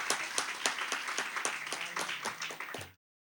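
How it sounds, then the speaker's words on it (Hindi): Audience at a Lakshchandi Mahayagna religious gathering in Gujarat claps in rhythmic, evenly spaced claps for about three seconds, moderately loud and close, then stops abruptly. "अब ताली बजाने का समय था।"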